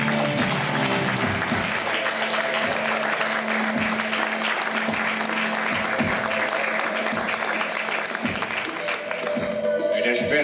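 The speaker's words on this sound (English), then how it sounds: "I want you please to just clap to Vic Pereiró" A live audience claps steadily at the close of an art performance, a dense, even wash of applause lasting throughout without pause.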